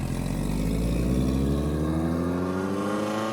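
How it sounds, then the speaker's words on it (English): A Ferrari 328 GTS with its rear muffler removed drives on a road test, its engine a loud, raw, continuous drone that climbs steadily in pitch as it accelerates, close and unbroken with no talking. "Now we're just road testing the car again without the muffler."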